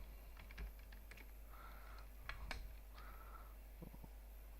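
Typing on a computer keyboard while filling in an Excel sales report sheet, with scattered soft keystroke clicks and short bursts over a faint steady hum, quiet and with no talking.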